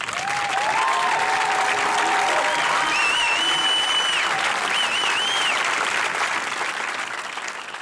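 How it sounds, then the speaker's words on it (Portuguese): Applause added in post-production, a dense, steady clapping sound with some crowd noise that fills several seconds and then tapers slightly, with a few whistles or voice-like tones over it. "Quero meus aplausos, gente, por favor."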